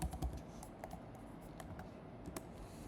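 Typing on a computer keyboard, a quiet run of irregular key clicks and taps up close, fairly faint in a calm room.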